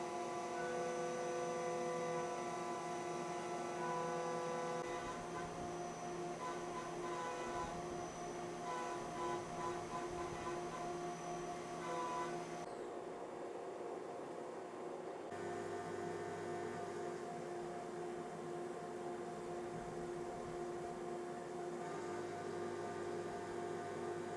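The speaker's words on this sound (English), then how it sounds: "the mill is happily chomping away" A CNC mill cutting parts gives a steady, loud mechanical drone with layered tonal whine and a shift in texture partway through, continuous with no talk.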